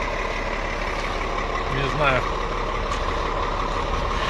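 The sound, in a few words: trucks at a loading dock, reversing beeps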